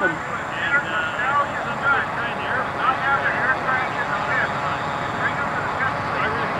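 A radio-controlled model airplane engine drones steadily at a distance, with a continuous buzzing whine that rises and falls slightly, under a constant wash of outdoor noise.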